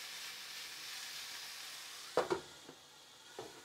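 Jerk pork sizzles gently in a pan over low heat, a faint, soft hiss. A few clunks and knocks near the end sound like a lid being moved or the pan being stirred.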